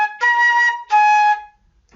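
Two short, clear flute notes, G then A, played in succession, each held briefly, followed by silence; solo and close.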